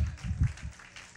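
A church congregation clapping in praise during a sermon, a short burst of scattered claps that fades quickly.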